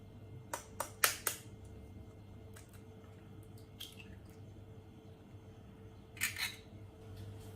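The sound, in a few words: eggs being cracked into a bowl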